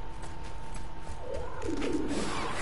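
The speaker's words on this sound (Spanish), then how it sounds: "Si se escucha un pajarito." A dove-like bird in the action game God of War coos softly in a few gentle calls over low, steady ambient game background.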